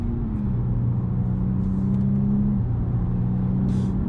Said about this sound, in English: Let's whack it over into sports, so instantly it gets a bit louder.